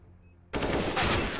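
After a brief quiet moment, loud rapid automatic gunfire erupts and continues in a dense burst, a firefight in Counter-Strike: Global Offensive.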